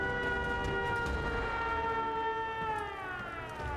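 A loud video game siren wails steadily with slow pitch glides over a low rumble, sounding alone without any speech.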